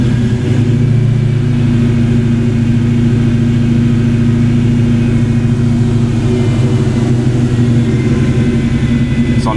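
A Ford Fox Body car's engine idles steadily while warming up, a loud, close, even hum with a constant tone and no voices.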